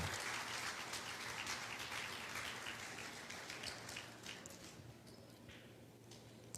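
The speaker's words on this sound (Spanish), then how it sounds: "Le damos un aplauso a Jesús." Steady applause from a church congregation, a dense patter of clapping that holds throughout and gradually thins toward the end.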